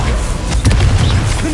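Confringo fire spell from Hogwarts Legacy erupting into a loud, roaring blast that fills the short moment from start to finish, with a heavier burst midway and a dense crackling rumble underneath.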